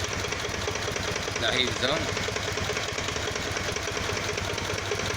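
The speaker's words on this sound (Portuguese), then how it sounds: "ela tá fazendo esse barulho no motor." A Kawasaki VN 800 Vulcan motorcycle idles with a strange engine noise, a steady rumbling drone with a faint rapid ticking, while someone speaks briefly over it.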